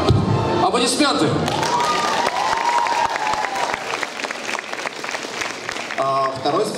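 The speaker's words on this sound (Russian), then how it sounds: "Аплодисменты!" An audience at a costume contest award ceremony breaks into sustained applause and some cheering, dense clapping filling the room while an announcer's amplified voice and music carry over it.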